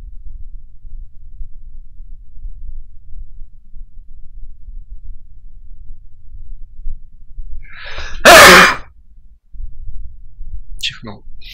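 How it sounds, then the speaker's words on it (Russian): One loud, close sneeze bursts out of near silence, followed a moment later by a brief faint sniff or breath. "Чихнул."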